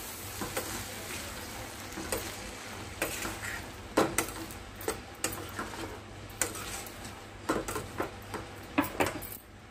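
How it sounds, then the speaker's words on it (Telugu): Black-eyed peas with turmeric being stirred in a hot pan: a constant soft sizzle broken by repeated sharp scrapes and clinks of the spoon at an uneven rhythm, close up and with no talking. "ఇప్పుడు ఇదంతా ఒకసారి బాగా మిక్స్ చేసుకోవాలి"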